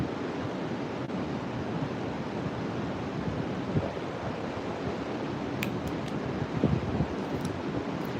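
Strong wind roars steadily across the microphone on a beachfront during hurricane season, a constant broadband rush with faint surf beneath and a few brief gusts.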